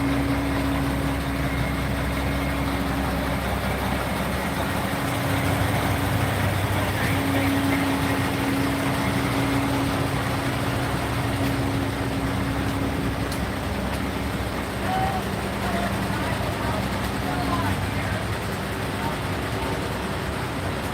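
Heavy dump truck engines idle with a steady low rumble throughout, a constant mechanical drone with faint distant background noise.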